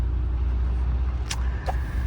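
A Mercedes-Benz 190E W201 drives along with a steady low engine and road rumble heard from inside the car, broken by two brief higher clicks or squeaks near the end, with no talk.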